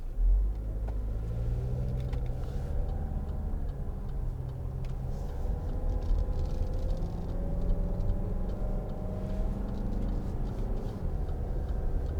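Steady low engine rumble inside a 2013 Land Rover Freelander 2 SD4 diesel as it shifts gears manually, the pitch rising and dropping between changes, with faint clicks and ticks and no talk.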